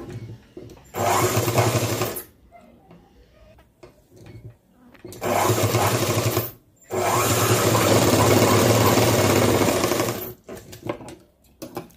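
A sewing machine stitches through two folded layers of cloth, running in three loud, steady bursts of about one to three seconds each, separated by short quiet pauses with faint handling sounds.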